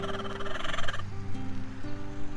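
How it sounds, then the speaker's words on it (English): A broody black Ameraucana hen makes low, drawn-out clucking and grumbling sounds close by, with a warbling, throaty quality. "We have a broody hen"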